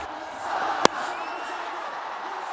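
Cricket stadium crowd in a night match roaring for a batsman's shot, a broad sustained cheer with a sharp crack early on, under a commentator's voice.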